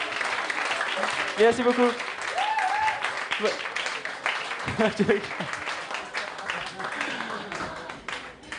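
Audience applause at a comedy club show in La Réunion, a steady wash of clapping running through the clip while a performer talks over it at close range.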